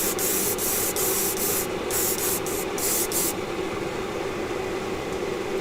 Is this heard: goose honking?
no